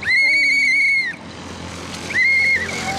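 A whistle is blown outdoors in a Pakistani village, two loud sustained shrill blasts separated by a short pause, close to the listener.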